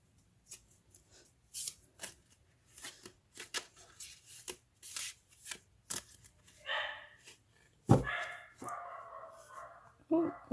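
A dog barks a few times nearby, sharp and loud, after a stretch of soft card shuffling sounds.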